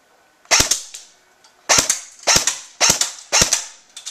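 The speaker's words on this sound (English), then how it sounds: "I'm shooting it one hand and I'm getting it on the target from here." Five loud, crisp shots from an Aftermath MP5 airsoft-style gun fired one-handed on semi-automatic at a target, spaced in an uneven rhythm with a pause after the first, each a sharp crack with a brief ringing tail and no talk.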